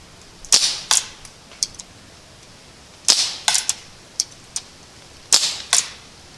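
CO2 air rifles, an Umarex Ruger 10/22 and a Crosman 1077, fire in quick bursts of sharp cracks, each shot followed by a faint metallic tick of pellets striking targets at 40 yards, with quiet pauses between volleys.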